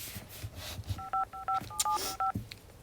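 A phone keypad dials a number, sending a quick run of six dual-tone beeps in short, even bursts over faint room noise, with no talk during the tones.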